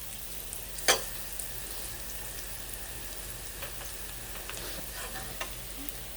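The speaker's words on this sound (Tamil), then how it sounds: "அடுத்ததாக நம்ம வந்து அரைச்சி வச்சுருக்கிற மசாலாவை சேர்த்துடலாம்." Ground masala fries with sautéed onions in a pan, giving a steady close sizzle with one sharp clink of a utensil early on and light stirring noises.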